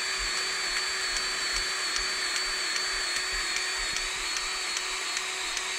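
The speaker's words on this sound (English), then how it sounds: "Cordless grease gun's the way to go." A cordless grease gun runs steadily while greasing machinery, a continuous high motor whine with faint regular ticks, close and alone.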